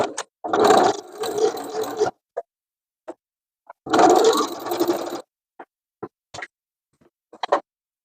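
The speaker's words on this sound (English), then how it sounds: "I'm going to go to a 3 stitch length and stitch down this little belt loop." A sewing machine stitches down a folded denim belt loop at 3 stitch length, starting on a scrap of leader fabric: two loud bursts of running stitching about two seconds each, separated by quiet gaps and scattered small clicks and taps.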